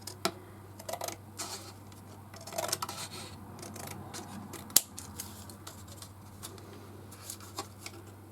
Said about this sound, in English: I'm just going to cut a strip off each side